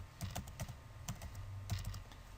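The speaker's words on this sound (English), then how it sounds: "So type in basketball." Keys on a computer keyboard tapped in quick bursts of clicks, close and clear, spelling out a short word with brief pauses between taps.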